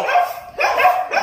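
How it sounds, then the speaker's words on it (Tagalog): Two close, loud dog barks in quick succession, sharp and slightly yappy. "kikit ng mga aso dun"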